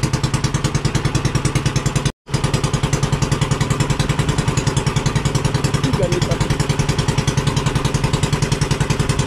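Two boat engines run together with a fast, rhythmic, loud thumping chug that cuts out for a moment before carrying on. A voice speaks briefly over the engines.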